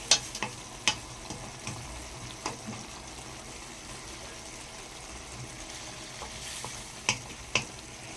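Chili peppers fry in a pan while being stirred, a steady soft sizzle underneath with a handful of sharp scraping clinks from the utensil against the pan scattered throughout.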